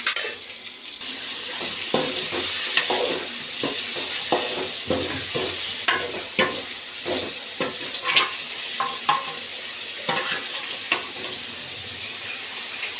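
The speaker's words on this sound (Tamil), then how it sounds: "நம்ம இப்போ மட்டன் எடுத்து இதில் சேர்த்துக்குவோம்." Mutton pieces frying and being stirred in a pan with softened onions for mutton kuzhambu, a steady sizzle under repeated scraping and clattering strokes of a spoon, close and fairly loud throughout.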